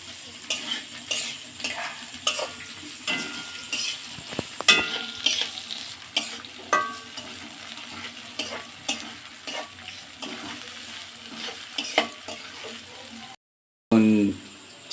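Garlic, capsicum, onion and chilli sizzle in a pan over a raised gas flame, with repeated scraping stirs and metal utensil clinks throughout, close and steady, before a brief silence near the end.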